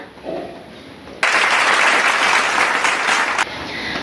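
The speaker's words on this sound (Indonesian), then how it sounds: "Kita beri tepuk tangan untuk Sofi dan Nila." Students in a classroom break into a burst of applause for classmates during a chemistry lesson on ionic bonding; the clapping starts abruptly, holds loud and steady for about two seconds, then stops.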